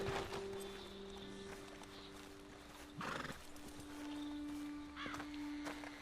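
Horses in the Red Dead Redemption 2 video game whinny and neigh several times while hooves clip-clop softly. Other game ambience plays underneath, there is no talking, and the horses sound fairly close.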